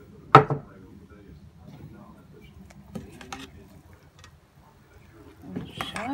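Soup being stirred in a multicooker pot with a utensil, a sharp clank followed by light scrapes and taps against the pot, sparse and close, with brief quiet gaps between.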